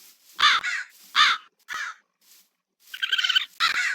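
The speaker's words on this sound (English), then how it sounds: "Gonna see if I can get a crow." A crow in a Minecraft Create modpack world caws repeatedly, about five harsh calls in an uneven rhythm, loud and close with short gaps of silence between them.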